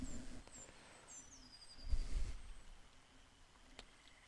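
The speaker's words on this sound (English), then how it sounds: "I could hear the birds." Birds chirp faintly in the ambient scenery of the game Jade Empire, a few thin high calls and sweeping tweets over a quiet background with a soft low thump midway.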